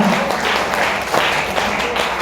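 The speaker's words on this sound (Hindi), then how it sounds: "ताली जोरदार वाली बजा लीजिए सर" Dense, steady clapping from a seminar audience fills the room, a continuous wash of many hands without break or pause.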